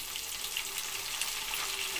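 Curry leaves and tomatoes hit frying onions in a pan for Nellore-style fish curry, giving a steady, soft sizzle and crackle throughout, fairly quiet and without speech.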